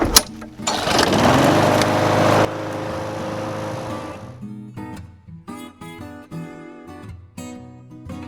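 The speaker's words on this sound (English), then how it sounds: "the first start of every season with this particular lawnmower" A loud burst of noise as a lawn mower engine catches on its first start of the season, then settles into a steady, close-up buzzing idle with no talking.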